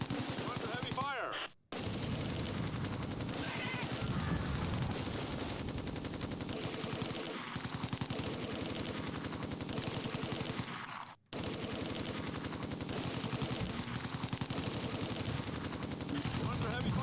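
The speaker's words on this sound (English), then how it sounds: "We're under heavy fire." Heavy, continuous gunfire in the video game Close Combat 2, with dense rapid machine-gun bursts and shots packed together, loud and nearly unbroken apart from two brief cutouts, with voices briefly heard in the mix.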